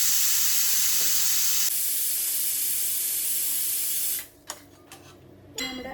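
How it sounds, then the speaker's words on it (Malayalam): Rice tipped into a pot of boiling water for beef biryani: a steady, loud bubbling hiss fills the first four seconds, then drops away to quieter clatter and brief knocks, with no voices. "നമ്മുടെ ചോറിനുള്ള വെള്ളം ഇവിടെ തിളച്ച് വന്നിട്ടുണ്ട് ഇനി നമ്മൾ ഇതിലേക്ക് നമ്മുടെ അരി ഇട്ട് കൊടുക്കുകയാണ്"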